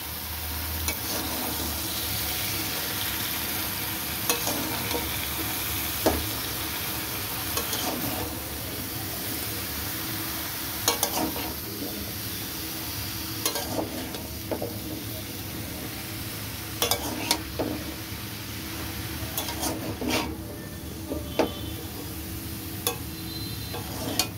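Mixed vegetables cooking down with spices for a dried fish curry sizzle steadily in the pan while a spoon stirs them, scraping and clinking at irregular intervals through a constant frying hiss.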